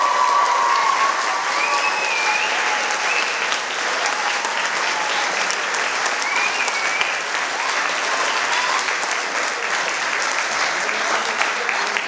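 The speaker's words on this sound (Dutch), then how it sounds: "Voor iedereen zou ik zeggen een heel davend applaus." Loud, sustained audience applause after a Michael Jackson tribute show with streetdance, dense clapping from a large crowd with a few scattered whistles and cheers, continuing steadily throughout.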